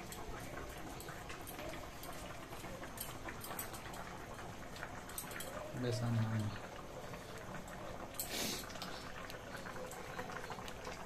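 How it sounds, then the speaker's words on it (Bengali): A spicy prawn and raw pumpkin curry bubbles steadily in the pan, a soft continuous simmer with a few louder pops, while a voice talks over it. "আর টকবক করে আওয়াজও আসছে বেশ"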